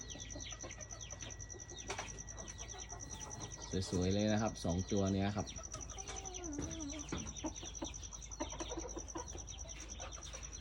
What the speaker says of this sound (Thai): ไก่ประมาณเจ็ดเดือนนะครับ